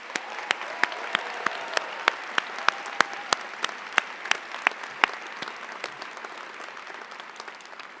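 A convocation audience applauds award recipients at a college agriculture ceremony, a steady wash of clapping with sharp individual claps standing out, fairly even throughout and tapering slightly near the end.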